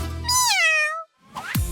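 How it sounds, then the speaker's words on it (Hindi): A cartoon cat gives a long, close, bright meow that bends upward and then falls away. A brief pause follows, then a second, shorter rising call. "देखो यहाँ कौन है? बिल्ली।"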